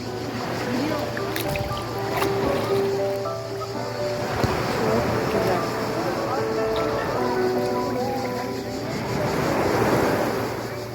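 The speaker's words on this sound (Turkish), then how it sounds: "denizin sesi." Sea waves wash steadily onto the stony shore of Manastır Bay in Erdek, a continuous surf rumble with gentle swells, and distant voices and other faint background sounds are mixed in.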